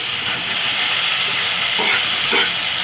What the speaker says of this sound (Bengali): তো আমার সিম ভাজাটা হচ্ছে, আমি এটা রান্না করছি।